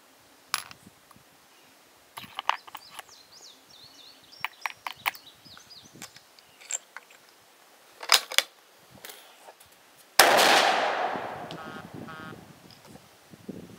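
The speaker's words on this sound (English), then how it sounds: "I think those were my last five shots" A Howa 1500 rifle chambered in .223 Remington fires a 55-grain FMJ round at 200 yards: one loud, close gunshot with a long, echoing decay, after a stretch of quiet clicks and handling noises.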